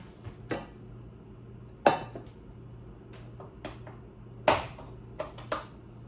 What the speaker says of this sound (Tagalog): Painit ko na yung aking kaserola.